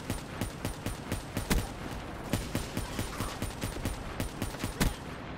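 Sniper rifle shots in an online shooter game: sharp, loud cracks repeat every fraction of a second in a fairly even rhythm, with faint mechanical clicks between shots and no talking.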